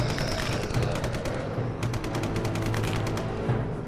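Cannon fire in a WW1 zombie rail shooter video game, a rapid string of sharp repeated shots in fast bursts over a low rumbling background.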